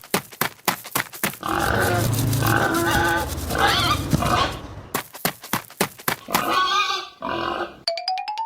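Pig grunting on a farm, a series of rough, rhythmic grunts and snorts up close, mixed with clicks and a brief chime near the end.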